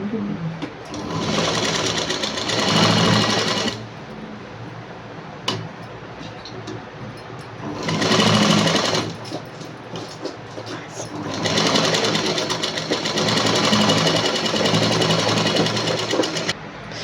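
A sewing machine stitches a coat-model dress in three loud runs of rapid, even whirring separated by quiet pauses, heard close up.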